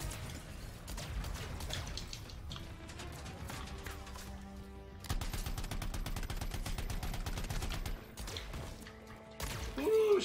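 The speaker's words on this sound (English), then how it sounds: "shooting at me from behind" In the action game Anthem, enemies fire at the player in steady, rapid automatic bursts with crashing impacts. The barrage is loud and nearly continuous, rising briefly near the middle and again at the end.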